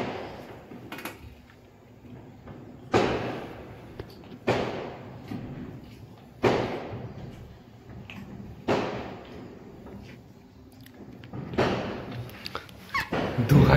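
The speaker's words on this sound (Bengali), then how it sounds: "খুব বম ফাটছে, খুব বম ফাটছে" Firecrackers bursting around New Year's midnight, a series of loud booms spaced a few seconds apart, each with a long echoing decay over a murmuring background.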